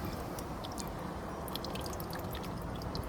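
Water trickles and drips steadily while yellow brickies sand is washed and sieved, a close, even wet patter with scattered brighter drops.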